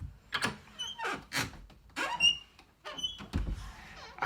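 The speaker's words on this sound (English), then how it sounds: "now this door can make a really good squeak." An old door squeaks through a series of drawn-out creaks and groans as it is worked back and forth on its hinges, close and fairly loud, with a few soft thumps between strokes and no talking.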